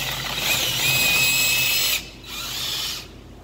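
An old drill bit in a power drill bores out control arm bushings on an SN95 Mustang, a loud whining spin that cuts off, then resumes in a shorter, softer burst and stops.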